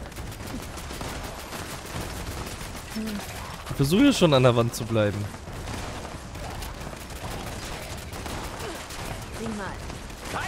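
Rapid automatic gunfire in the video game Fallout 76, a continuous fast train of shots running throughout. Someone speaks briefly in German over the shooting midway through.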